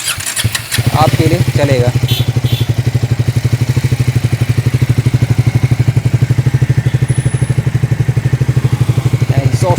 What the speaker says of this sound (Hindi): अब आपको एग्जॉस्ट नोट सुना देता हूँ मैं इसका भी